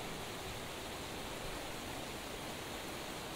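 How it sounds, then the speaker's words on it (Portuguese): Rising water in a Roblox game level makes a steady, even rush of flowing water, like a waterfall, that stays constant and fairly faint throughout, with no voices. "que agora a água vai subir"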